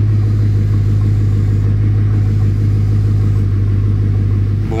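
Steady deep engine drone from a Bugatti supercar running close by with its rear wing raised, a loud constant low rumble with no clear rise or fall.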